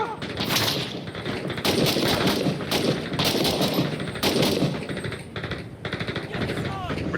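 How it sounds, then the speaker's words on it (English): Sustained machine gun fire in a Call of Duty video game, dense rapid bursts roaring continuously and loud with short breaks, mixed with scattered explosions and battlefield noise. "Pin enemies in place with suppressive fire while you flank."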